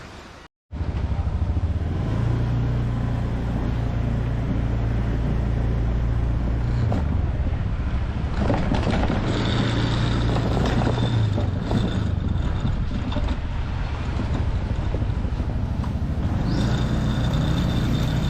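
A car driving along a main street in Hua Hin, Thailand, heard from inside with a steady loud engine drone and road rumble, gear changes and passing traffic over about eighteen seconds, no voices.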